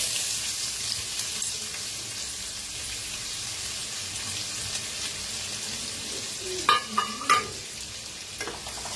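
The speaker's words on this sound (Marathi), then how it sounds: "छान असं भाजून घ्यायचं कांद्याला।" Finely chopped onion with cumin and cinnamon frying in a pan for an egg curry: a constant soft sizzling hiss throughout, with a few brief clinks and scrapes of stirring near the end.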